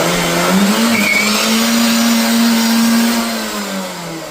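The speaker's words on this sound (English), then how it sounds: "One wheel peel, baby." A car, likely a 2003 Ford ZX2, does a one-wheel-peel burnout, its engine droning steadily at high revs with tire squeal mixed in, loud and close throughout before easing slightly near the end.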